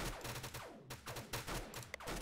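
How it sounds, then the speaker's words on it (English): Rapid volleys of missiles fire from a commando's rocket launcher in a video game, a quick run of sharp whooshing bursts and thuds in close succession, loud and near. "It shoots missiles."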